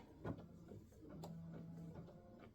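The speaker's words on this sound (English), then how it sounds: "Now I'm going to stitch color stop 10, the first tack down" An embroidery machine stitches an applique tack-down on a turkey block, a steady mechanical whir with faint rapid ticking, fairly quiet and continuous after a brief knock at the start.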